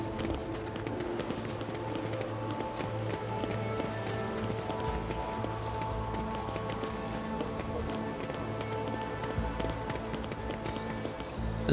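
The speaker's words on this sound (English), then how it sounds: "Hearing your footsteps, the elderly servant grabs an injector and stabs it into his arm." Footsteps in Rogue Trader tread at a steady pace, quick and even, set against a low ambient backdrop.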